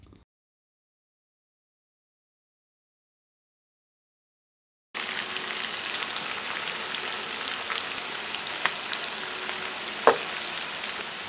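Chopped onion frying in hot oil in a pan, heard after a silent stretch as a steady, close, hissing sizzle with a few faint pops and clinks.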